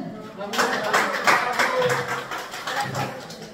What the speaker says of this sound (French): maintenant on peut l'applaudir